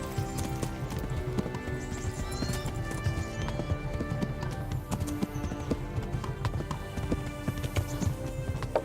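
Rapid, continuous hoofbeats of a galloping horse pound through a video game horse race, loud and close, with occasional neighs and a constant clatter of other game noise.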